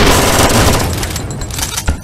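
Gunfire in the VR shooter Sairento VR: a loud burst of overlapping shots and booms at the start, fading into a rumbling tail with another sharp hit near the end.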